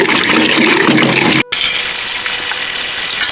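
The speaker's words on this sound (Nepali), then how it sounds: "अब चाहिँ यसलाई दुई पानीले अब धुन गइरहेको छु।" Water gushes over lentils being rinsed in two changes of water in a home kitchen, a loud continuous pour and slosh that breaks off briefly partway through, then carries on with a thinner splashing.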